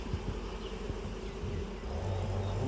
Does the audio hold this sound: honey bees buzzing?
yes